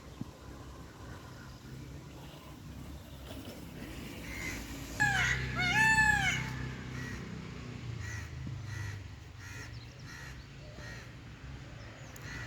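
Peacock calls out repeatedly in cool, pleasant weather, a burst of loud, wailing cries rising mid-clip over a soft outdoor background.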